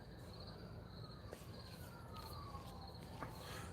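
Faint emergency vehicle sirens wail far off near a trailer park at 55th and Federal, a thin rising and falling tone under a dense chorus of crickets and insects, with no talking.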